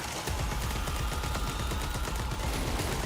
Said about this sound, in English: I'm shooting the horde off of you.